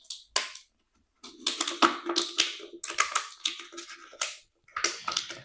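Close, crisp crunching and snipping of scissors cutting through a plastic bottle, coming in irregular bursts separated by brief pauses.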